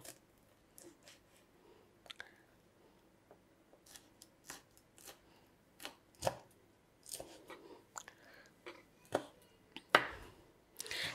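Fresh red chillies are cut with a knife for a homemade Thai sweet chilli sauce, heard as irregular sharp chops and taps, some louder and close, over a quiet background with no speech.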